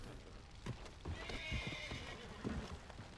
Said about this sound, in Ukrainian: Чого коні бісяться?